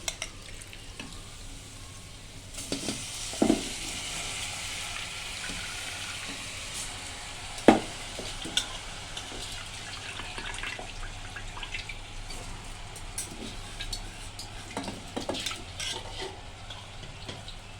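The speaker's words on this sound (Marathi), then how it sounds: "आता ह्याच्यामध्ये धुतलेला तांदूळ टाकून घेते" Washed rice and vegetables stir-fried in a pan for masala rice, giving a steady, close sizzle with scraping stirs and a couple of sharp clinks of a spoon against the pan, with no talk.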